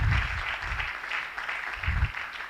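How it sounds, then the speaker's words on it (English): An audience at an anniversary and induction ceremony claps in a brief, dense burst of about two seconds, with low rumbling thumps underneath. "So another round of applause for those who can do it."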